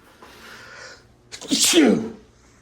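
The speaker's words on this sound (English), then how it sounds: "I'm gonna sneeze." A single loud sneeze bursts out nearby after a short breathy inhale, then quickly fades, in a hotel room at Disney's Port Orleans Resort Riverside.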